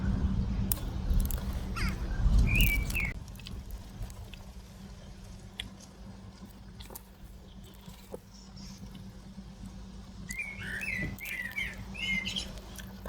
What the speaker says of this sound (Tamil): இந்த குருவி கிளியெல்லாம் வளர்க்கணும், அதான் எனக்கு சத்தம் போடுது.